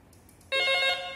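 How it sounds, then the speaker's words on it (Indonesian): An analog Panasonic PABX extension phone starts ringing with a bright electronic trill that cuts in abruptly and continues loudly, after faint quieter tones. "Oke, dia berdering, berarti bisa dihubungi."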